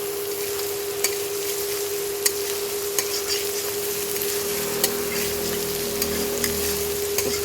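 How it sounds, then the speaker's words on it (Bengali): Chopped onions sizzle steadily in a pan of ginger and garlic while cooking mutton kosha, with light scraping clicks as they are stirred, close and continuous with no talking. "তো পেঁয়াজগুলো যতক্ষণ না লাল লাল ভাজা হচ্ছে ততক্ষণ নেড়ে চেড়ে ভাজতে থাকবো।"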